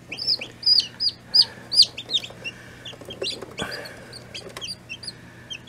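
Chickens cluck near newly hatched chicks, hatched early in a warm-running incubator, with a run of sharp, bright peeping calls followed by softer scattered clucks and chirps over a faint steady hum.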